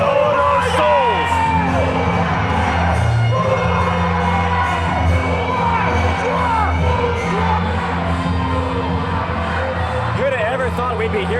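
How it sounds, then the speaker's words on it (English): A large event crowd chants and cheers loudly and continuously, a roaring mass of voices with rising whoops and yells that never lets up for over ten seconds. "They're chanting Boomaye."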